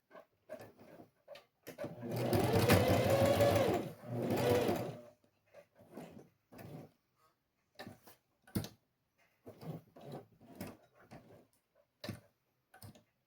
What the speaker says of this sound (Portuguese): vamos aqui fazer a costurinha na beiradinha